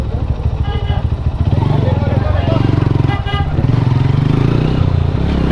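Twenty or so motorbikes ride through a village road near Sreemangal, making a loud, close, throbbing engine drone. Horns toot and voices chatter over it.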